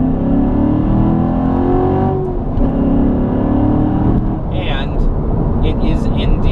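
A 2014 Chevrolet Corvette Stingray with the Z51 option accelerates hard, its engine drone rising in pitch, heard from inside the cabin as a steady loud roar with a brief shift.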